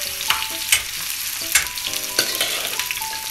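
Liver and onions sizzle and fry on a flat street-style tawa griddle, a loud continuous crackle punctuated by sharp metallic clacks of a spatula stirring and scraping, with no voices.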